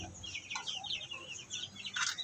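A four-month-old Shamo Aseel chicken clucks in short, quick bursts, with other birds chirping faintly nearby; the calls are close but quiet.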